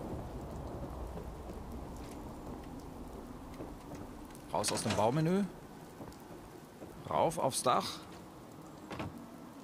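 Steady rain with rumbling thunder in the video game Fallout 4, heard as a constant wash beneath a man's speech.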